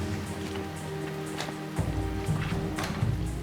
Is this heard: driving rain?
yes